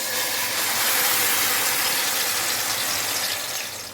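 Tomato mix for pizza sauce hitting a hot oiled pan, a loud, steady hissing sizzle that holds strong for several seconds and then starts to fade, with no talking.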